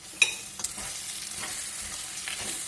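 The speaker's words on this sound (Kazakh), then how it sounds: "Енді қазір араластырамыз." A spoon scrapes through rice for palau in a pot in several irregular strokes over a soft, steady sizzle.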